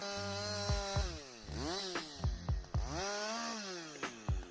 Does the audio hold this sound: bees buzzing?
no